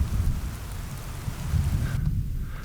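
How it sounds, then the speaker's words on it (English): Steady rain falls with a deep, rolling rumble of thunder underneath, continuous and fairly close in an outdoor wilderness setting, with no voices. "Now it can rain."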